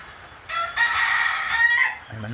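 A rooster crows once, loud and close, a long drawn-out call followed by a brief low cluck.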